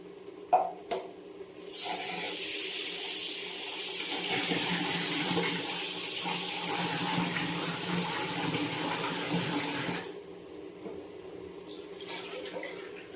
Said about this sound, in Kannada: ಅಕ್ಕಿನ ಒಂದ್ 2 ಸತಿ ತೊಳ್ಕೊಳ್ತಾ ಇದ್ದೀನಿ.